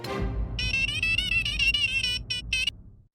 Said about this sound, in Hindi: मैं अय्यर भाई को भी फोन कर देता हूँ। उनका नंबर स्पीड डायल नंबर 2।